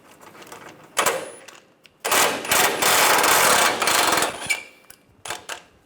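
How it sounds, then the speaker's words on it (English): A 14mm socket wrench loosens a bolt on a 1996-2002 Toyota 4Runner during an air deflector replacement, giving close, rapid ratcheting clicks in short bursts and one longer run, with quiet gaps between. "Using a 14mm socket, we're going to take these two bolts out."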